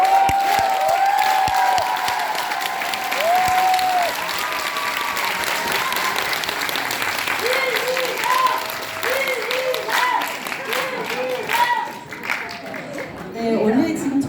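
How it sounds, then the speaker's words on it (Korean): A crowd at a Democratic Party political rally in Sejong applauds loudly and continuously, with scattered cheers rising over the clapping while a voice talks through a microphone and the clapping swells and dips. "다시 한번 서비스에 큰 박수 부탁드립니다"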